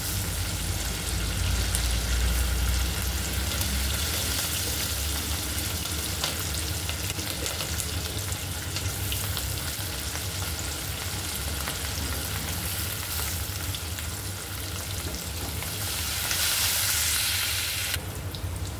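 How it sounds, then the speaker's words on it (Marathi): Tempering of spices frying in a pan for a spicy village-style mutton curry: a steady, loud sizzle with stirring scrapes running continuously throughout, with no talking. "फोडणी छान परतून घ्यायची।"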